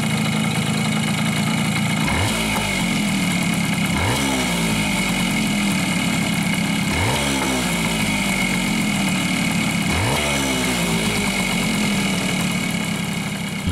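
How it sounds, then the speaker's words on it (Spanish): A Suzuki AX100 motorcycle engine, after an air screw adjustment, idles loudly close by and is blipped four times at regular intervals, each rev dropping quickly back to a steady idle. "cerrar media vuelta el tornillo del aire y esperar unos segundos hasta que la marcha del motor se estabilice"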